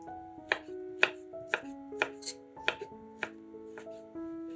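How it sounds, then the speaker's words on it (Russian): A knife chops ham into small cubes on a board, about a dozen crisp, evenly spaced knocks close by over quiet kitchen background, no talking. "200 грамм ветчины нарезаем небольшими кубиками."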